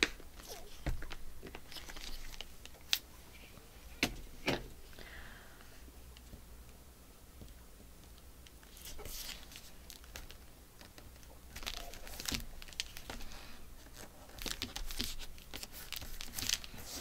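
Extra paper is torn and crumpled by hand, with repeated crinkling, rustling and sharp tearing bursts coming and going in clusters, close and moderately loud, with no talking.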